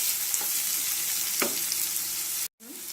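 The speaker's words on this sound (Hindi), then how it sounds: "इसे थोड़ी देर के लिए 2 मिनट के लिए भूनने देंगे।" Steady, close sizzling of tomato puree frying in a pan, with a couple of faint stirring scrapes and a momentary drop near the end.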